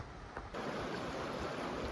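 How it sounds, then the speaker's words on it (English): Continuous broadband rush of a mountain river at Sonora Pass, steady and fairly close, with no voices, swelling slightly louder after the first half second. "Well, here's the river right here."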